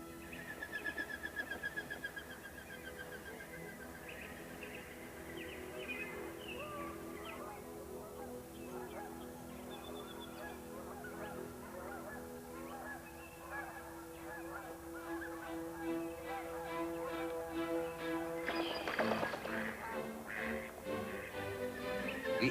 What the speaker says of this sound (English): migratory birds return each year to nest